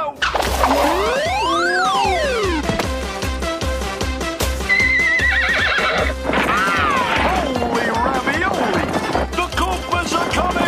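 A cartoon horse gives a loud, exaggerated whinny over clip-clopping hooves, with cartoon music, crash effects and voices mixed in.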